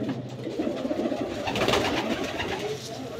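Teddy pigeons cooing in a steady, close chorus of overlapping throaty coos at moderate loudness, without talk.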